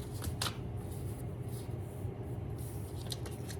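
Playing cards being shuffled, a steady papery riffling and rustling that runs throughout at close range, with a few sharper flicks standing out and no talking.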